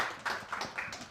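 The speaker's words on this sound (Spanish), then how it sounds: "Un gran aplauso" A few scattered claps at a WordCamp Zaragoza conference talk, sparse and uneven bursts from a small audience, fairly quiet and short.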